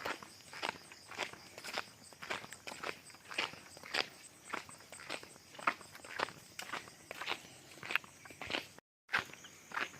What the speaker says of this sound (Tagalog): Naglalakad kami sa gubat.